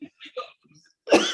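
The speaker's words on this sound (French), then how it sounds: "je me tousse un peu" A single short, harsh cough bursts out at the end, preceded by faint murmured voice sounds, during an indoor interview.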